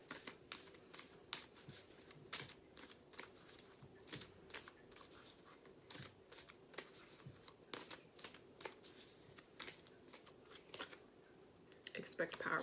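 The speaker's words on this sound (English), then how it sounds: "I'm gonna pull a couple more cards. And this is the Moon deck." Tarot cards from a Moon deck are shuffled and pulled, a quiet, close series of crisp riffling flicks and snaps in an irregular rhythm, with a louder flurry at the end.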